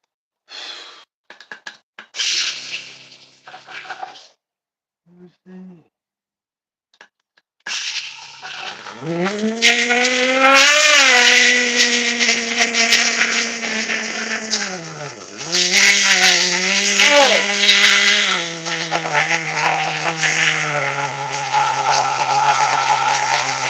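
A Schumacher Menace RC car's Mach .427 nitro engine is started after a few short pulls, then runs loud and high-pitched, revving up and down with dips and steady buzzing, alone and close.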